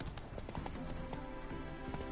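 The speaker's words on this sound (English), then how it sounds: "I just found this horse in the middle of nowhere." A horse in The Witcher 3 clip-clops its hooves at an even walking rhythm, quiet under game music with a faint background tone.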